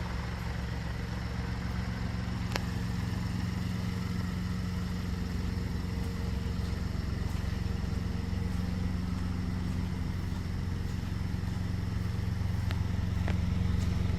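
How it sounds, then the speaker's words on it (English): A 2017 Mini Cooper Countryman on a test drive gives a steady, continuous low engine and road drone from inside the cabin, with a few faint clicks and no talking. "we're going on a quick test drive here"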